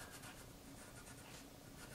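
Pen or pencil scratching on paper while writing initials on a drawing of a train: a steady, close, continuous scribbling texture with no talking.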